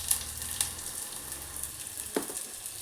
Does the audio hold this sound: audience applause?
no